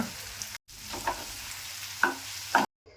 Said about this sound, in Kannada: ಇದನ್ನು ಒಗ್ಗರಣೆ ಜೊತೆ ಮಿಕ್ಸ್ ಮಾಡ್ಕೊಂಬಿಡೋಣ